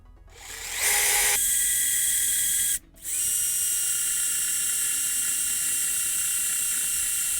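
A drill turning a 5/8-inch Forstner bit at slower speed spins up to a steady whine, stops briefly, then restarts and runs at an even pitch until the end.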